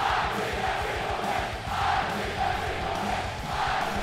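Utah State Aggies fans fill a stadium with a loud, continuous wash of cheering and rhythmic chanting, with pulsing low beats running under the massed voices throughout.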